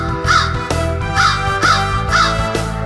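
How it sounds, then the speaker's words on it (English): A crow caws repeatedly in a regular rhythm, about four calls, loud and close over a sung melody with steady backing music. "Big black crow sitting on a tree. What are you squawking about?"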